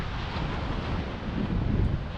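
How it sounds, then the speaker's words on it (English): Strong wind buffets the microphone atop the Tottori sand dunes at the water's edge, a steady loud roar with gusting swells and surf blending underneath, no voices. "it's really, really windy at the top of this dune on the water's edge"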